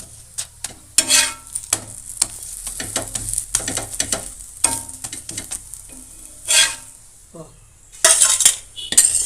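Ragi chapati cooking on a pan, with soft sizzling under repeated scraping and clinking of a utensil against the pan, close by and intermittent.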